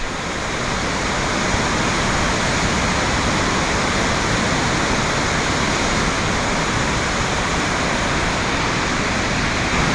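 Continuous loud roar of a powerful waterfall, a dense unbroken wash of water noise that stays steady throughout.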